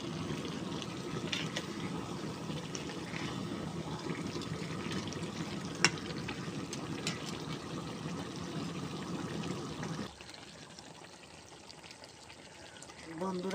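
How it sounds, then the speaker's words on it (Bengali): Chicken pieces sizzling and frying in a pan with chopped tomatoes and green chilies as the meat is browned, a steady close hiss that drops off sharply near the end. "বন্ধুরা, মাংসটা ভালো করে কষিয়ে নেবেন।"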